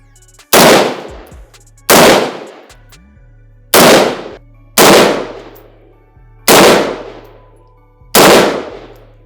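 Automatic weapon fire at a shooting range, seven loud, sharp, close bursts spaced roughly every one to one and a half seconds, each with a quick booming decay and no talking between them.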